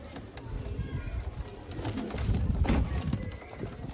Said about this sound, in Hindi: ये प्योर मलवाई कबूतर है ना भाई